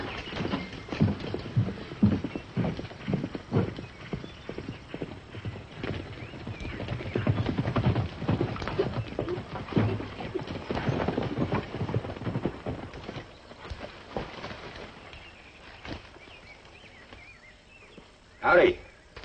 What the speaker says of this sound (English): Stranger riding up.